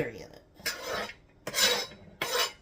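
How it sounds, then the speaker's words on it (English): A metal utensil clinks and scrapes against a dish in three short bursts as celery goes into a homemade macaroni salad. The sounds are close and crisp, with no talk. "Now we're going to put the celery in"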